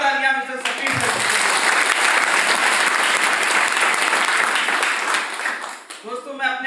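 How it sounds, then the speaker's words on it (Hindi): Loud, dense applause from an audience honouring a guest at a leadership event swells and holds steady for several seconds, with a voice heard just before it starts and again as it fades. "तो एक बार जोरदार तालियां मिस्टर सचिन सर।"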